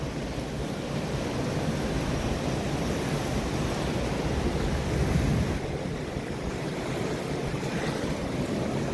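Flooded Ib river at Dhodhidand, Jashpur, rushing fast over a bridge, a loud steady roar of churning water mixed with wind buffeting the microphone, constant throughout with no voices.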